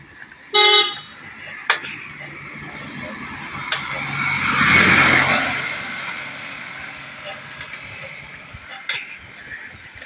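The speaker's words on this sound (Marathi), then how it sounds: "इकडून टेम्पो येतोय." A small tempo truck on a narrow village road in the Konkan countryside gives a sharp toot, its engine swells louder as it draws near and passes, and a few more short honks follow.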